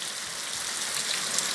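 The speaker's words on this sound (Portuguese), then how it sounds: "Muita chuva aqui, ó, agora, hein, ó." Heavy rain pours down on a farm in Olho d'Água dos Borges, Rio Grande do Norte, in the evening, a dense, steady hiss of drops drumming on surfaces close by.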